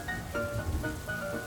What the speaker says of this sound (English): water pattering on the roof